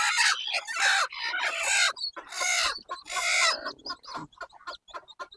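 A free-range village hen clucks near her newly hatched chicks, busy close-up clucking and chatter in bursts, followed by softer scattered peeps and clicks.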